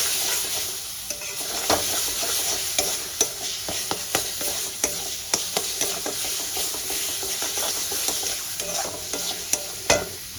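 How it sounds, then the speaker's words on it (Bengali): Spices and red chili powder frying in a pan make a constant sizzle, broken by regular scraping clicks as they are stirred. The sound is moderately close and there is no talking. "মশলাগুলো আমি সব ভালো করে ভেজে নেব"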